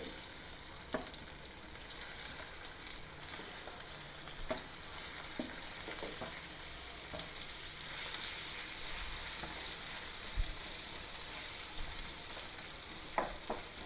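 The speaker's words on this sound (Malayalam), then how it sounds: "ഇത് ഡീപ്പ് ഫ്രൈ ആയിരിക്കണം" Steady, dense sizzle of sardines deep frying in oil, with occasional sharp pops and clinks standing out over the continuous crackle.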